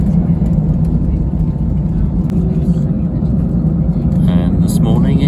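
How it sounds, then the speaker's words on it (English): An airliner's engines drone steadily as the aircraft lines up on the runway before a standing takeoff, heard from inside the cabin as a loud, constant low rumble with faint sounds on top near the end. "this morning it's a standing takeoff"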